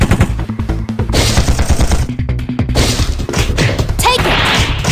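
Rapid gunfire and crashing impacts in the Android idle RPG mecha game Chaos Mecha, loud dense bursts of shots with brief gaps, punctuated by smashes and a short rising electronic whine.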